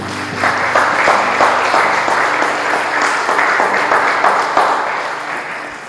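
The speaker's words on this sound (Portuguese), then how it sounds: "Uma salva de palmas para ele." A church congregation bursts into sustained applause for a man, steady dense clapping from many hands that holds for several seconds before slowly tapering.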